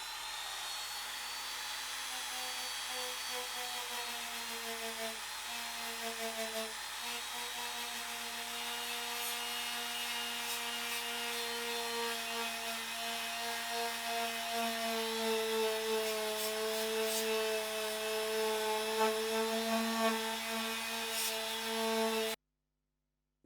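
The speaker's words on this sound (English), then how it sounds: "Now I remove the rust with a Dremel wire wheel." A Dremel rotary tool with a wire wheel scrubbing rust off the metal casing of an Original Xbox console, a steady high-pitched motor whine with abrasive grinding that shifts slightly in pitch as pressure changes, continuous and close.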